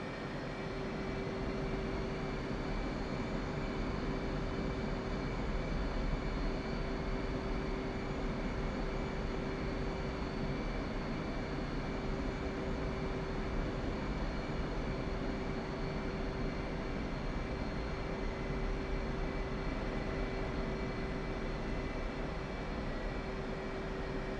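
A military jet taxiing slowly, heard as a steady, unbroken roar with a sustained engine whine held at an even level throughout, with no voices.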